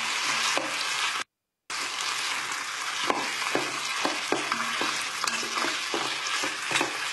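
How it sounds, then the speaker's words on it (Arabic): Tomato paste shallow-frying in a pan for barley and meat soup sizzles steadily up close, with scattered stirring scrapes and clicks, a brief silent gap early on, and no talking. "إلى الآن أنا في وضع القلي السطحي، القلي السطحي يعني القلي مو عميق"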